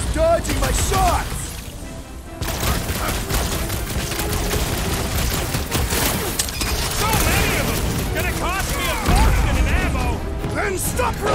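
Gunfire and combat in Marvel's Guardians of the Galaxy video game: rapid bursts of blaster shots, crashes and impacts pile up in dense, loud clusters, with in-game voices and chatter over the action.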